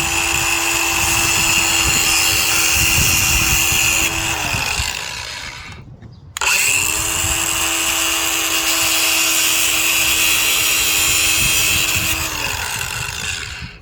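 A power saw cutting vinyl siding, running in two long whining passes with a brief pause between them, close and loud, with no talk.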